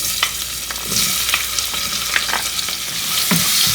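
Onions and garlic hit a hot frying pan for okro soup, giving a steady close sizzle broken by scattered crackles and the scrape of stirring, with no voices.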